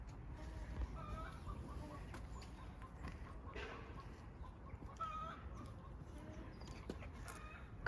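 Roosters cluck and call intermittently on a cold outdoor morning, fairly faint and distant, set against steady background rumble and light wind.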